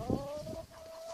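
A single Orpington hen gives a short, close, soft cluck followed by a drawn-out tonal croon, fading quickly in a quiet setting.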